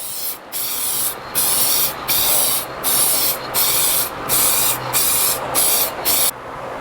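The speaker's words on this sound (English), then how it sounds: "Spray one more mist coat just to pop that pearl." Spray gun misting pearl paint onto a Les Paul Custom guitar body, a steady close hiss in about nine even bursts separated by brief pauses.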